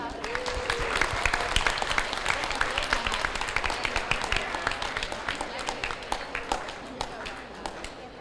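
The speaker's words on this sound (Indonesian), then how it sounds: "Berikan tepuk tangan yang meriah untuk program keahlian desain" A crowd applauds at a school farewell ceremony, crisp individual claps scattered over a steady clapping bed, with voices talking underneath and the applause slowly tapering off.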